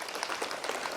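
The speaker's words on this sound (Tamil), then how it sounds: "ஸோ பிரின்ஸ்பால் மேம்காக ஒரு பெரிய கைத்தட்டல் கொடுத்துடலாம்." Audience applause for a school principal at a charity event, a dense steady patter of many hands clapping throughout.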